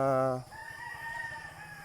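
Young roosters give a short, close crow that is cut off, followed by a run of low, rapid clucking from the flock.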